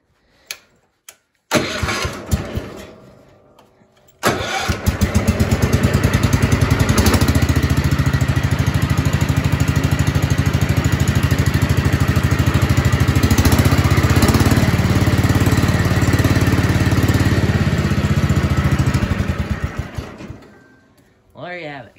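An old garden tractor, a 110, cranks and fires, then its small engine runs loud and close at a steady idle and throttle for about fifteen seconds before shutting down.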